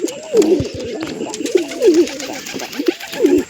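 A pigeon coos close by, three throaty rolling calls in a slow rhythm, with soft fluttering and rustling in between.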